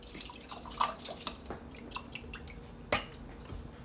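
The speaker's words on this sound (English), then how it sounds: "Drain all the water." Water from an opened can of corn drips and splashes in a few scattered bursts, with one louder splash near the end. No voices.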